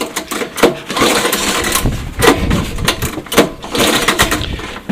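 An engine turned over by hand to check compression, giving a series of dry mechanical clunks and rattling clicks in uneven bursts, fairly close and moderately loud, with no voice.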